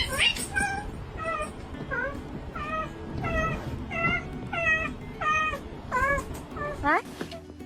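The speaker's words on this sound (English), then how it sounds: "Meow." A cat meows again and again in a steady series of short calls, clear and close, with some background noise underneath.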